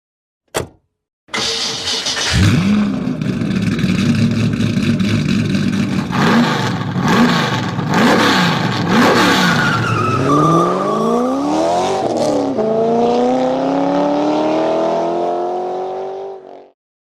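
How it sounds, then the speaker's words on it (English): Spec Corvette race cars roar at Sonoma Raceway, engines loud and close, revving and accelerating hard through rising and falling gear changes, with a tire squeal and a sustained climbing engine note over the long pass. "the stars and cars of the Spec Corvette Series are just getting ready"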